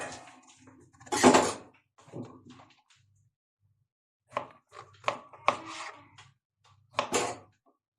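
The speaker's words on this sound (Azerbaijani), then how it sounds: "İndi xiyarlarımızı doğrayırıq." Cucumbers are chopped with a knife on a board for a crab salad, sharp separate cuts in small uneven bursts with quiet pauses between them, close and fairly crisp.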